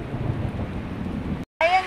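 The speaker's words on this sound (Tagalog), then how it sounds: "Sobrang ulan." Heavy rain pours in a steady, loud wash while people wait under a waiting shed in Hong Kong, the roar filling the space and briefly cutting out near the end.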